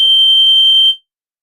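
A single loud, piercing electronic fire alarm tone sounds during a fire system test, holding steady for about a second, then cutting off abruptly into silence.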